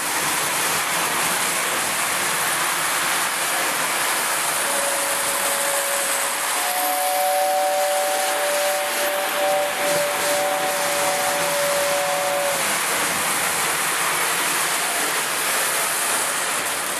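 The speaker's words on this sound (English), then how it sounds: "I'm going to run the air whistle now here." A 1947 Lionel model steam train's air whistle sounds a sustained two-tone note for several seconds over a steady mechanical rush, then stops.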